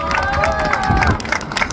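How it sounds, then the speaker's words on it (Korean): A crowd at an outdoor rally in front of the Supreme Court breaks into applause and cheering, loud and continuous, with shouts mixed into the clapping. "박수 부탁드립니다."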